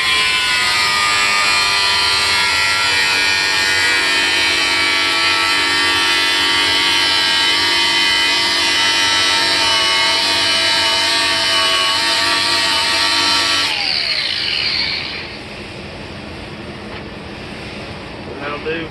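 An angle grinder grinds a Toyota Land Cruiser fender close to the marked cut line, a loud, steady metallic whine that runs for most of the time before winding down near the end.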